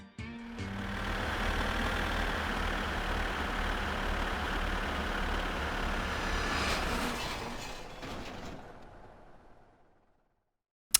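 A tractor engine in My Summer Car runs steadily with a loud, continuous rumble while being parked, fading out near the end before a brief sharp knock.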